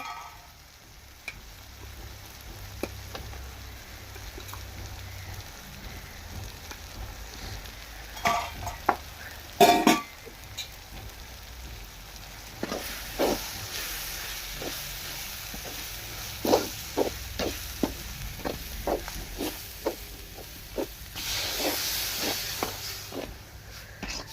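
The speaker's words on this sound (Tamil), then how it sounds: "அப்புறம் மல்லித்தூள் எல்லாம் போட்டு இப்போ வதக்க போகிறாங்க" Ground spices with coriander powder sautéing in a hot pan, a soft continuous sizzle punctuated by repeated scraping and clacking stirs, heard up close with no talking.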